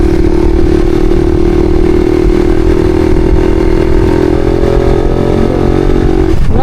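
Motorcycle engine fitted with an aftermarket exhaust pipe, a loud, steady idling drone held close by for several seconds, then a sharp rev that rises at the very end.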